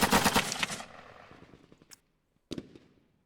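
Artillery fire in the Lock 'n Load Tactical wargame: a loud rattling burst of blasts opens, trails off into fading echoes, then one sharp detonation follows after a short silence.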